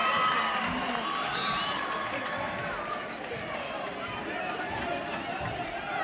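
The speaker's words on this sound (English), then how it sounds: "TJ Diggins now gets a nice hand from the crowd" A basketball crowd cheers and applauds in a gym during a 1988 high school boys game, a broad steady roar of hands and voices with an announcer talking over it.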